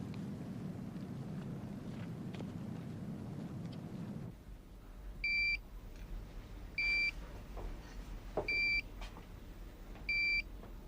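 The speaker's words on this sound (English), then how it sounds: "she's only set off one alarm." An alarm sounds in four short, evenly spaced beeps, each a bright steady tone, after a stretch of low rumbling background that drops away into a quieter room.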